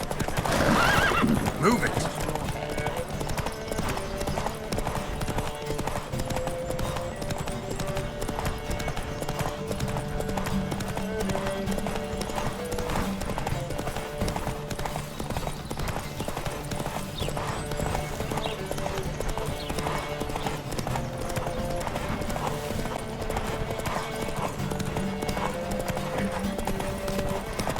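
Horses galloping in a race in the video game The Witcher 3, rapid continuous hoofbeats with neighs and whinnies over a music score, and a voice shouts briefly near the start.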